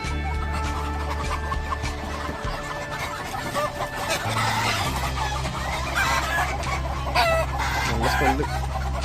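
Native chickens cluck close by on a farm in Sohar, Oman, with repeated short calls over a steady low mechanical hum throughout.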